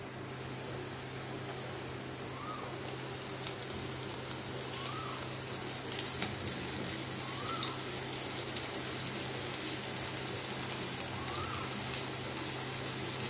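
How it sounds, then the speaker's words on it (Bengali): Batter-coated bitter gourd slices fry for masala karela chips in hot oil in a large wok, giving a steady, even hiss and fine crackle that runs unbroken throughout, with no voices. "এবার আমি করলাগুলো ছাড়বো এর মধ্যে।"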